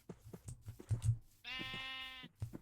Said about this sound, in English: This is the one thing I hate about doing sheep in Minecraft